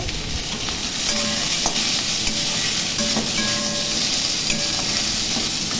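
Cauliflower and potato for a rohu fish curry being stirred in a pan, heard as a loud, steady frying hiss with soft intermittent scraping underneath, close up and free of speech.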